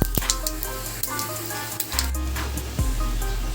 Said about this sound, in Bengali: এর মধ্যে আমি একটু গোটা জিরে ফোড়ন দিয়ে দিলাম